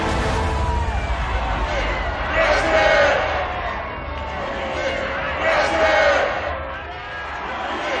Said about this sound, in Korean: 만세의 함성이 경성신을 뒤흔들었습니다